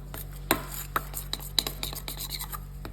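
Scone pizza dough mixture being stirred in a bowl, a run of scraping, clinking strokes of utensil against the bowl with a few sharper knocks, close and clear with no talk.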